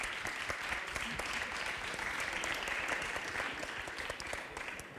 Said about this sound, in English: So, a great applause